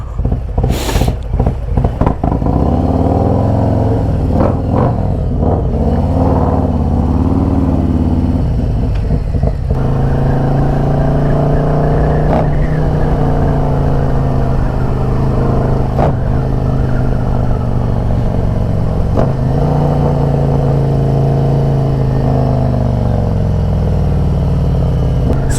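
A Harley-Davidson motorcycle ridden along a road toward Newark, its engine droning loud and close throughout with shifting pitch as it accelerates and changes gear, joined by steady wind rush.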